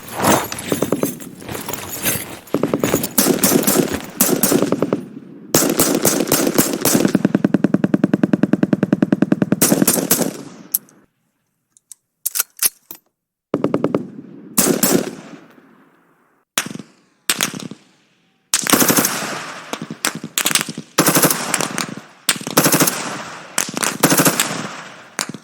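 Machine gun fire in a military shooter video game, with long loud rattling bursts and rapid volleys separated by short silent gaps, sounding close and dominant throughout.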